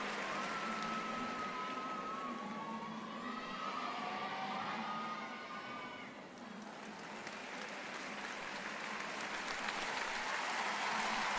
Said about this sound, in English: The crowd enjoyed that too. Huge cheers going up in each tumbling pass.